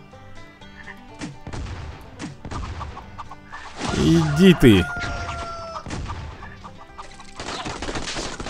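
Chickens cluck in the video game Swamp Attack 2, heard as short bursts among game effects and louder squawking calls in the middle, with someone speaking Russian over parts of it.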